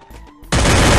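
Gunfire in the Free Fire battle-royale game bursts in loud and dense at mid-clip, after a quieter stretch of low rumble and faint tones, then holds as a continuous roaring volley.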